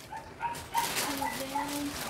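Dogs bark and whimper at a distance, with faint, scattered yips over a steady background hiss.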